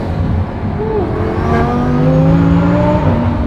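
A rented Lamborghini's engine revs loudly from inside the car, its pitch sweeping up and down in smooth rising harmonics, with a steady heavy roar underneath and no talking.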